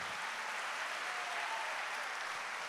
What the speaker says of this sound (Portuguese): Aplaude de verdade.